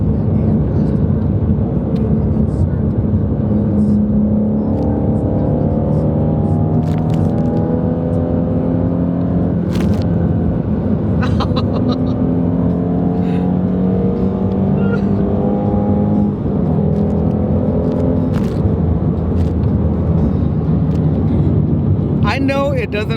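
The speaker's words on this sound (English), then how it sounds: "V8, baby." A Shelby GT350 V8, one of 16 made, roars steadily while cornering at speed, a loud continuous engine drone with shifting pitch and wind rush, under occasional talk.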